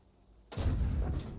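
A T-37 tank gun fires once in a video game, a sudden heavy boom that cuts in after a quiet moment and rolls on with a loud, rumbling tail.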